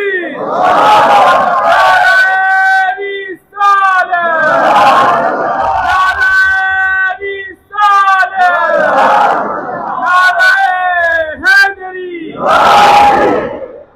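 A large crowd roars back a Takbir chant in loud, repeated surging waves of voices, each swell rising and falling with short gaps between, the collective shout carrying strong harmonics.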